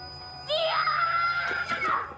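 A child screaming, a single sustained wailing cry that rises sharply and holds for over a second, loud and close over a quiet low hum.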